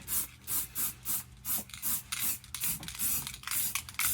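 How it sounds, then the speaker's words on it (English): Bursts of aerosol spray paint applied in black to a routed sign, coming in repeated short hissing passes with brief pauses between them, close and steady. "We'll spray it as black"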